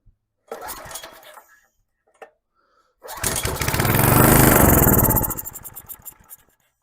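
A small tiller engine on full choke gives a short sputtering attempt, goes quiet, then roars to life loudly for a few seconds before dying away.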